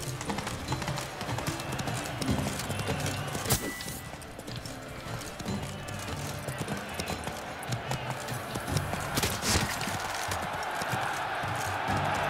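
The horse Roach races in The Witcher 3 with a continuous rapid drum of hooves and a few sharp accents, heard under scattered talk and game noise.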